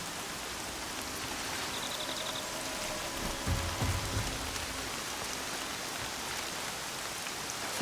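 Steady rain patters on surfaces in the video game Horizon Zero Dawn, a continuous hiss with a few low thuds midway and a faint tonal sound in the background.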